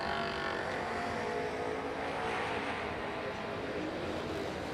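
Race cars at an ACE race roar in a continuous, loud engine drone that swells and fades slightly, distant and blended with ambient track noise.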